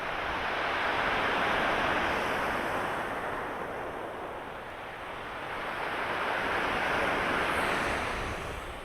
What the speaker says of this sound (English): I can hear the sound of the stones, folks, with the water going away,